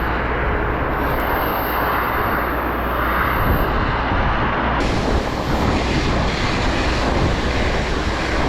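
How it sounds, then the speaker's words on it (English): Salt water from fire hoses blasting across snowy ship decks, a steady loud broadband rush with wind and sea noise, continuous throughout with a shift in tone midway. "This is one method that we use to clear the decks using salt water and fire hoses."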